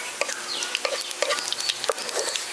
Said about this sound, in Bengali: জিরেটা দিয়ে দেওয়ার পর হালকা একটু ভেজে নিচ্ছি।